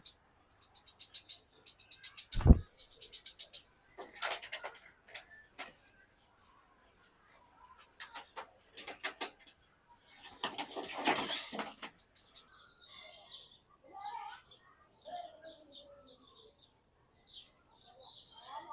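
Pet birds, a night heron and an egret, give scattered chirps and short squawks, with sharp bursts of rustling and handling noise early on and sparse high calls trailing off later.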